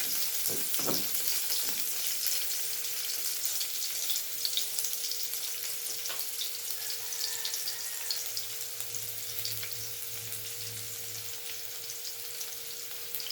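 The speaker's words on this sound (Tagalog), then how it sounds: "gisa na natin yung bawang" Garlic sautéing in frying oil left over from frying fish, a steady close sizzle with light stirring, a faint hum running underneath.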